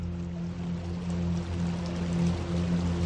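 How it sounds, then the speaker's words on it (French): River water flows steadily in an animated series, a continuous broadband rush and pour that stays even throughout, with a faint tonal hum underneath and no voices. "Et en écoutant couler l'eau."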